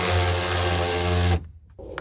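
A power tool drives and tightens a mudflap bolt with a spring washer on a 2020 or newer Silverado 2500/3500, a loud steady whir that stops abruptly after just over a second, followed by faint handling noise.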